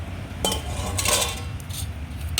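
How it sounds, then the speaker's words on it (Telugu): A metal lid clinks and scrapes as it is lifted off a pot of stuffed brinjal curry, with two or three short metallic knocks over a low, steady background. "మూత తీసి చూద్దరి"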